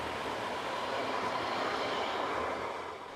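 A Metro Express light-rail train in Mauritius runs along its line in a steady, moderately loud rumble of wheels and carriage noise that eases slightly at the end.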